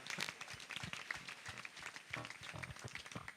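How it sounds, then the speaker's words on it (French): A church audience in a hall applauds steadily, a faint, continuous patter of many hands clapping at a distance, with no voices over it. "On acclame, on acclame."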